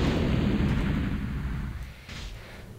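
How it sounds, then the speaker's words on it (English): Booming explosions from the video game Ricochet Infinity, a sustained loud rumbling blast that slowly fades, with a second smaller burst near the end. "this game loves explosions"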